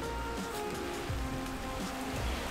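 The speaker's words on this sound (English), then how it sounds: "Oh, it's raining." Steady rain patters and hisses continuously nearby, a dense wash of drops with no voices.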